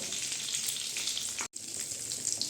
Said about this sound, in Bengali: এই যে এইভাবে হয়েছে মাছগুলো, আমি আরগুলো সেই একইভাবে ভেজে দিব।